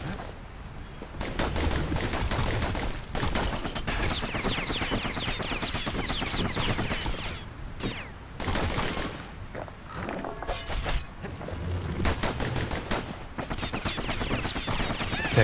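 Rapid gunfire from enemies in the video game Bastion, dense bursts of shots and impacts that are loud and near, with brief gaps, mixed with game effects.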